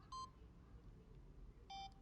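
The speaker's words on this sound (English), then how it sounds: "I hear beeping." Two short electronic beeps, each a brief bright tone with a buzzy edge, sound about a second and a half apart in the video game The Stanley Parable, faint against a low steady background rumble.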